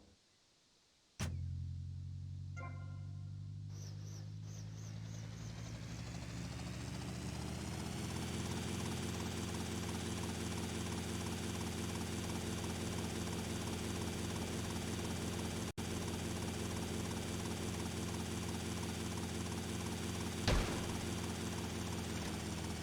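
A video game helicopter's engine and rotor drone on steadily and loudly after a sharp start, a continuous whirring hum with a brief click partway through and one near the end, no voices.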